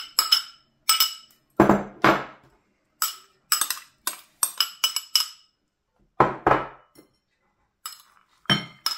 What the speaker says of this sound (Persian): ماست رو ریختم و این رو هم میزنیم به این شکل